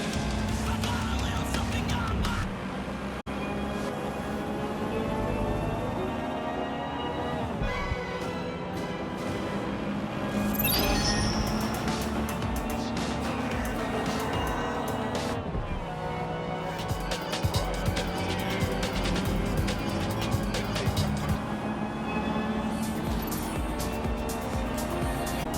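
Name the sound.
car driving on auto drive in video game Watch Dogs: Legion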